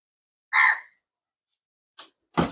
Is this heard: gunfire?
no